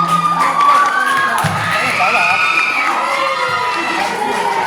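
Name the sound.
audience applauding and cheering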